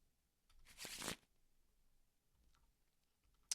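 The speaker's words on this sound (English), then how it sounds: "And then we shuffle this." A deck of cards shuffled once during an Arkham Horror card game: a single quick, crisp riffle lasting about half a second, close and fairly quiet, followed by near silence.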